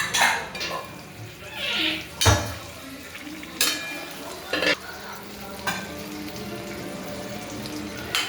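Stuffed chillies cook in a pan with a steady sizzle and frying hiss, broken by several distinct clinks and scrapes of a utensil stirring against metal. Faint talk sits under it.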